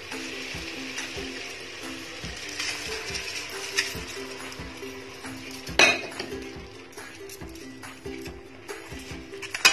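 Rice tipped into softened vegetables in a cooking pot for veg biryani, with clinks and scraping of a utensil against the metal pot, a sharp clatter midway, and a faint steady sizzle underneath.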